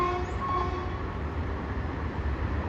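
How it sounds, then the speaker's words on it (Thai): A long-distance train on the southern line slows to cross the Rama 6 railway bridge toward Bang Sue junction, giving a steady, loud rumble of wheels and carriages with tonal hum, heard continuously and close without voices. "ขบวนเราก็จะเบาทางนะฮะ ชะลอความเร็วลงเพื่อที่จะข้ามผ่านสะพานนะครับผม"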